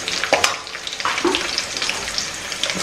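Crushed spices and garlic fry in oil for a mathi fish kuzhambu tempering. Close, uneven sizzling pops and crackles come in bursts, with no talking.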